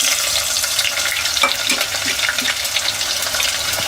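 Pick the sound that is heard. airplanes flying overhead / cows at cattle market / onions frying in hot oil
onions frying in hot oil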